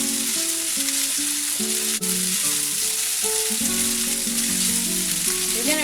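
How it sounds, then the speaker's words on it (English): Boiled rotini pasta stirred in pesto sauce in a pan, heard as a steady hissing sizzle beneath louder background music with a clear melody, continuous throughout. "And mix it gently."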